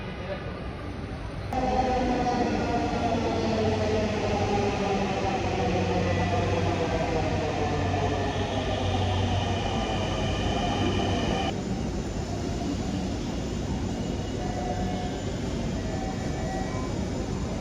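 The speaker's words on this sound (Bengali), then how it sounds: "প্রতি 6 মিনিট অন্তর অন্তর ট্রেন আসে মেট্রো" A loud, continuous rumble of a Dhaka Metro train arriving at a station, with steady mechanical whine and rattling that persists throughout, then shifts slightly in tone partway through.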